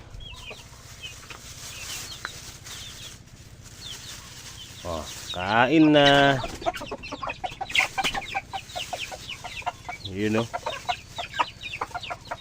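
Chickens cluck and squawk nearby in a lively, overlapping chorus, with a brief stretch of people speaking over the birds.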